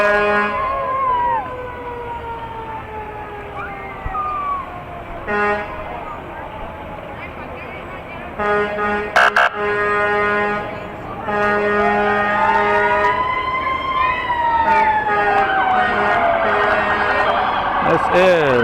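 Fire truck of a hook and ladder company passing in a Fourth of July parade, wailing siren sweeps with horn blasts and air-horn toots, loud and close, with people talking nearby.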